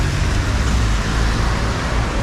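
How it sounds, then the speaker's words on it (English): Dense downtown street traffic in Pretoria's CBD at knock-off time on a rainy day, a loud, close, continuous roar of engines and tyres with no break. "the traffic is crazy, guys"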